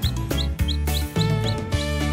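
A red chick peeps in a farm henhouse, giving a rapid run of high, rising chirps in a steady rhythm, loud and close with no other sounds.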